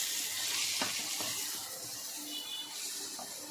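Small morola fish fry in a pan of hot oil while being stirred and turned for a Bengali chorchori, a steady loud sizzle with a few scraping knocks, close up and with no voices.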